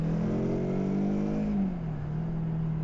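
Kawasaki Versys X 300 motorcycle accelerating at city speeds, a loud steady engine hum that rises slightly and then drops in pitch as the revs fall, heard close with no talking.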